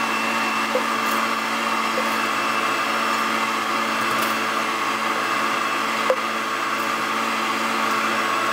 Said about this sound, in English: then we're going to start grinding it through the small plate